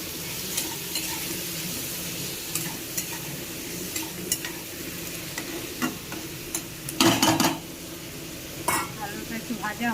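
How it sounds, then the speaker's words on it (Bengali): Potatoes frying lightly in a pan with a steady close sizzle, broken by repeated scraping and stirring clatters of a spatula against the pan, with a few sharper knocks near the middle. "এবার আলুটাকে আমি হালকা করে ভেজে নেব"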